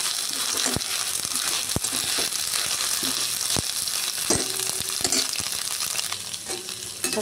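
Prawns and onion frying in a pan, a steady dense sizzle with occasional sharp clicks and crackles, close and continuous, with no talking.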